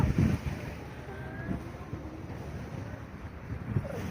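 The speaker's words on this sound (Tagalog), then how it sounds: "Nasa tabing dagat tayo mga dong." At Santo Niño beach, wind buffets the microphone over a low rumble of waves on the shore, steady and gusty with no clear break.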